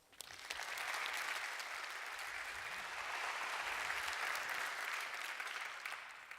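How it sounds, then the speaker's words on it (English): An audience applauds the launch of the Trusted Expert Network, TENx, a sustained burst of many hands clapping that starts abruptly, holds steady for several seconds and then tapers off. "I'd like a round of applause for this."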